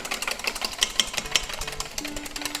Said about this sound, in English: Just give it a quick whisk.